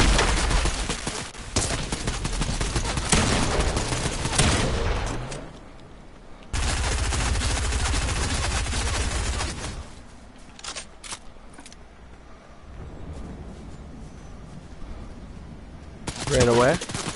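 Gunfire rattles out in bursts in Fortnite, with dense rapid shots in long stretches that break off, then return later alongside other game sounds.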